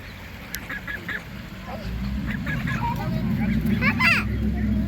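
Geese honk in short bursts near and far over a steady outdoor rumble, with people talking faintly in the background.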